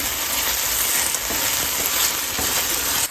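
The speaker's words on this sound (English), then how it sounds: "I'm going to introduce my aromatic, which is my crushed garlic. I'm going to stir this in for a few minutes." Crushed garlic sizzling in a pan of frying chicken livers while being stirred, a loud steady crackling hiss close up with faint scraping, no speech.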